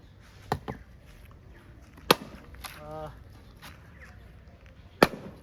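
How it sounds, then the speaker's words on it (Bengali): An axe chops wood outdoors, a few sharp cracks spaced irregularly, with a soft rasping sound in between and faint voices in the background. "যতবার কুড়োল দিয়ে কাট কাটতে আসি"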